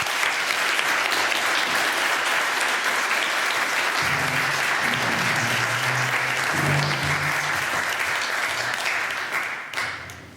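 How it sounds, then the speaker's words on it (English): A large audience claps steadily and loudly for about ten seconds, with a few cheers mixed in, before the applause fades out. "Let's give them a big applause."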